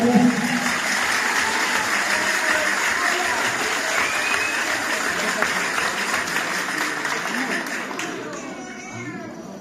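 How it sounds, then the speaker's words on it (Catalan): Audience applause for dancers at a gitanes dance event in Parets del Vallès, sustained dense clapping from a crowd that holds steady before fading slightly near the end, with voices mixed in. "Un fort aplaudiment per aquesta"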